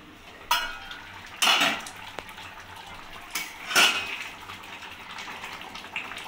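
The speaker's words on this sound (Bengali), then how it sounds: "ঢাকাটা খুলে দেখে নেব।" Metal pot lid lifted off a simmering chicken curry in a home kitchen, with a few sharp clanks and scrapes of metal separated by quiet gaps and faint bubbling underneath.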